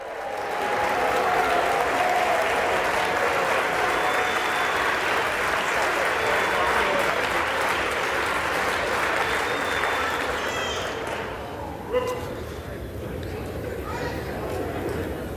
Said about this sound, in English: Don't do the applause thing.